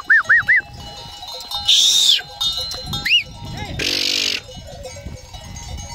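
Sheep on a farm bleat in short wavering calls, several animals close by, alongside a bell-like jingle and bursts of broadband noise.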